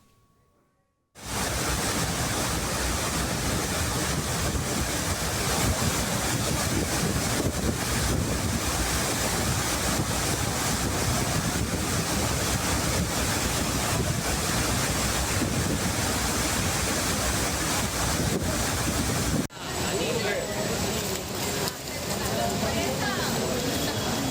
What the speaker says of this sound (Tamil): தென்காசியில் கொட்டி தீர்த்த கனமழையால் குற்றால அருவிகளில் காட்டாற்று வெள்ளம் ஆர்ப்பரித்து செல்கிறது